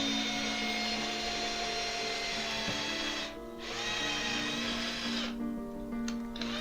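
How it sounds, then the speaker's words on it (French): Power drill boring a hole through wood along a drilling guide, a continuous close, loud whine with a steady hum that dips briefly twice as the bit eases off. "j'ai juste fait un léger trou et je continue sur le guide"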